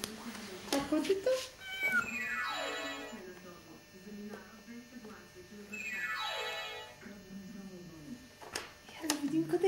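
A cat meows repeatedly at close range, loud and drawn-out, apparently from a pressable animal sound toy, with an adult's voice talking between and over the calls.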